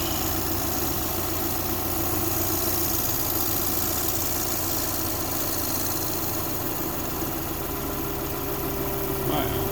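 Running Subaru Forester EJ25 engine with a worn AC compressor clutch rubbing, a loud steady droning whir with a dense rough texture, close up and unbroken, with someone talking over it.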